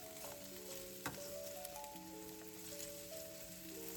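Potatoes fry in a pan with a steady, even sizzle that runs through the whole stretch, with sustained background music tones over it.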